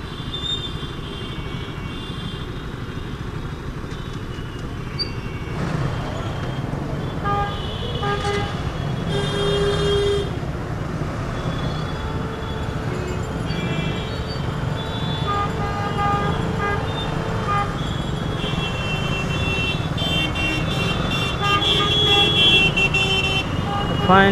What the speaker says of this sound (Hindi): ट्रैफिक ना मिले हो नहीं सकता।